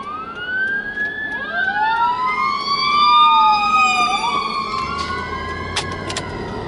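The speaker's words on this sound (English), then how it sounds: "if there's a fire engine going with lots of lights" A fire engine passes with its siren wailing in sweeping, overlapping rising and falling tones, growing loud as it nears and then fading, with traffic rumble underneath and no talk.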